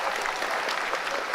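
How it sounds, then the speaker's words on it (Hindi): Crowd of scientists clapping in the mission control room during the Chandrayaan-3 Moon landing, a continuous dense roar of applause, fairly soft and even throughout, with no voices on top. "आप सुन पा रहे होते तालियों की गड़गड़ाहट के साथ"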